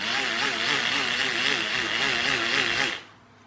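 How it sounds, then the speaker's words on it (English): A hand-cranked generator in a small gadget with LEDs whirs steadily for about three seconds, a continuous buzzing drone with a wavering pitch, then stops abruptly, leaving quiet room noise. "so we got a hand cranked generator"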